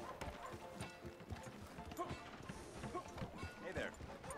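Horse hooves clop steadily along a town street in Red Dead Redemption 2, rhythmic and fairly close, mixed with busy game ambience while someone talks over them.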